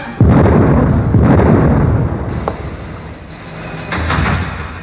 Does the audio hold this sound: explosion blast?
yes